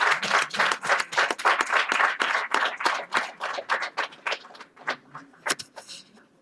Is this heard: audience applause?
yes